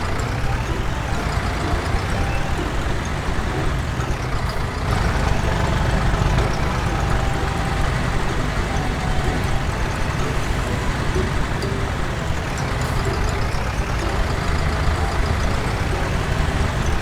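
Engine noise from a heavy tracked excavator in Farming Simulator 19, a constant loud droning rumble with a gritty mechanical texture that runs without a break, and someone talking over it.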